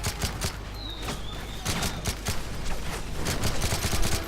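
Dense, continuous gunfire from the video game Call of Duty MW3, with rapid overlapping shots and bursts sustained throughout at close range, a busy battle din with no pauses.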